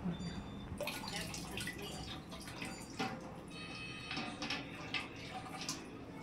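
Water drips and splashes steadily as an item is rinsed in plain, untreated water, a continuous wet trickle with a few sharper drops, close by and moderately loud.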